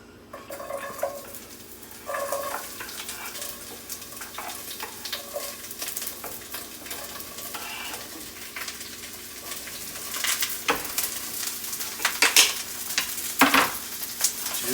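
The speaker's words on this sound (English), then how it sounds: "And then we're going to cook our vegetables." Vegetables stir-frying for a Korean beef stir fry, a steady sizzle with stirring and scraping in the pan that builds toward the end, with occasional sharp utensil knocks and no talking.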